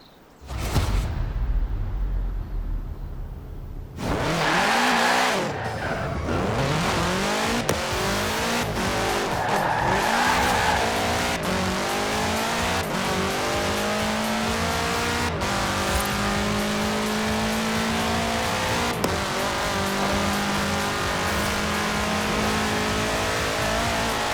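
In Forza Horizon 4, a car fitted with a 2.5-liter F4 turbo engine revs hard and accelerates through repeated gear shifts, its loud engine note rising and dropping again and again, with tire squeals mixed in and no talking.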